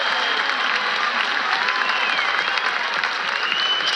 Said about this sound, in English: Just applause there.